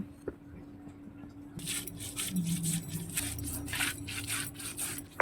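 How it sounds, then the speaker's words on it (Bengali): Onion ground into paste on a traditional grinding stone for a Bengali fish curry, rhythmic rough rubbing and rasping strokes starting partway through, close and moderately loud. "এই পেঁয়াজটা আমি বেটে নিচ্ছি।"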